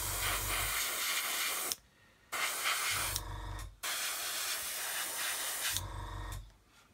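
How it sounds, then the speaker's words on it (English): Black paint hisses from an airbrush in steady close bursts of spray, each lasting a second or two, with short silent breaks between passes while touching up missed spots on a model build. "we can just come along with the airbrush, go along there, get the black paint in there"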